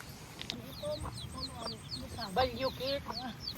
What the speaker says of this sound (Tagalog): Dito na yung mga sisiw sa loob.